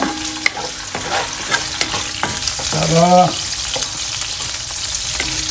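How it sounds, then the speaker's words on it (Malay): Steady sizzling and crackling of shrimp frying in hot oil, with stirring and scraping of a utensil and a brief word spoken midway. "Kita goreng dulu udang kita."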